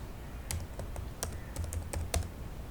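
Keystrokes on a computer keyboard while entering a Python Matplotlib program, a quick uneven run of light clicks with a few sharper taps, close and fairly quiet.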